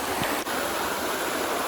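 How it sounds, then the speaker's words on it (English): Waterfall pouring into a stream, the rushing water continuing as a close, loud wash with nobody talking. "So, still here by the waterfall a little bit."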